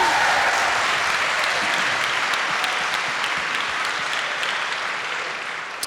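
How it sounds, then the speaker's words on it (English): Sustained audience applause from a live crowd, loud and even, slowly tapering toward the end. "okay, everybody get ready to applaud"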